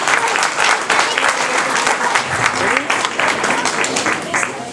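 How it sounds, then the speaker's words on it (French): After a rugby match, an audience applauds a multiple-time French champion with loud, steady clapping from many hands that continues for about five seconds, with a few voices faintly underneath. "Donc si vous pouvez applaudir son palmarès à Laurent, merci pour lui."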